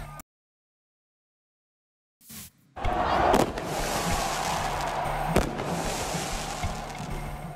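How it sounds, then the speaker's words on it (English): Fireworks bursting over crowded Toronto streets as hockey fans celebrate a Maple Leafs playoff win, a sudden loud crackling roar with sharp pops over steady crowd noise after a silent gap. "pure jubilation on the streets of Toronto, fireworks included"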